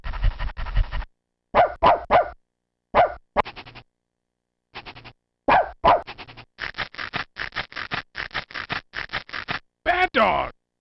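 Short, clipped dog barks and panting sounds from the After Dark 3.0 screensaver, coming in repeated bursts with brief silent gaps, the later ones falling into a rapid, even sequence, loud and close.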